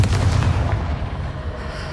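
A Confringo fire spell exploding in Hogwarts Legacy, heard as a loud, booming blast with a crackling, rumbling tail that fades over two seconds.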